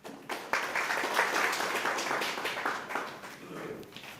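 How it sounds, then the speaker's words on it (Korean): Applause from the audience at a National Assembly forum as a professor is introduced to present; a fairly quiet, short burst of clapping that swells and then tapers off. "큰 박수로 부탁드리겠습니다"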